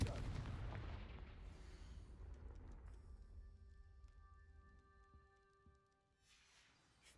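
A Confringo spell explosion in the video game Hogwarts Legacy lands as a heavy, booming blast at the start, then rumbles and fades into a long, ringing decay.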